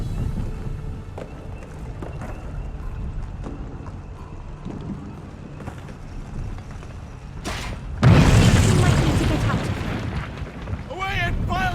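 A bomb going off in the video game We Happy Few: quiet ambience with light ticks and footfalls, then a sudden heavy blast that bursts into a loud, sustained roar of rumbling debris.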